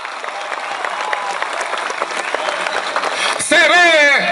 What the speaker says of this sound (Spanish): ¡Un aplauso, compañeros y compañeras!